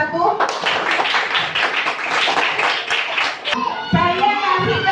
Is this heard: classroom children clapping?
yes